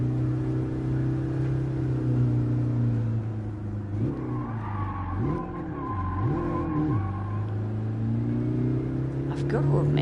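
Engine of a souped-up road car driven in GT Sport in VR: a loud, steady, harmonic drone that dips and climbs in pitch through gear changes in the middle, then settles back to a constant cruising hum.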